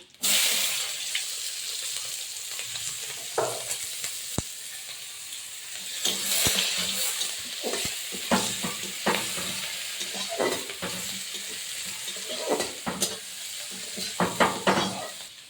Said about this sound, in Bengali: ওই তেলে আমি দিয়ে দেবো একটু পাঁচ ফোড়ন পাঁচ ফোড়ন দিয়ে দিলাম একটা গোটা তেজপাতা দেব আর পেঁয়াজ কুচি দিয়ে দেবো